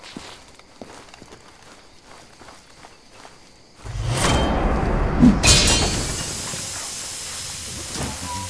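A gas tank cracked open in the video game Far Cry 2 lets out a loud, steady hiss that bursts in partway through and keeps rushing on, with footsteps and movement sounding earlier and underneath.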